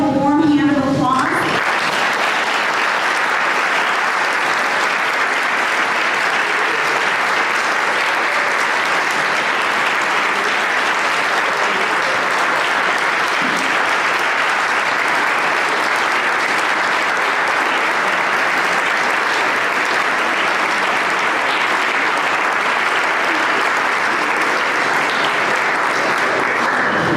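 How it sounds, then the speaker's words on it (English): Sustained applause from a crowd at a county board meeting honoring retiring public servants, loud and even, continuing for nearly half a minute after a brief spoken introduction. "If we could please give them a warm hand of applause."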